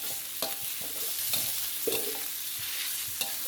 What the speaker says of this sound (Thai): ผัดหมูสับของเราให้สุกให้หมดเลยครับ